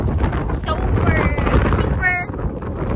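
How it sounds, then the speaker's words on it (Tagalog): Strong wind buffets the microphone at Pantabangan Dam, a steady low roar across the whole moment, with voices faintly talking over it. "Kasi super hangin doon."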